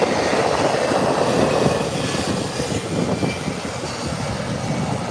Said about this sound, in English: Here comes this Airbus 390.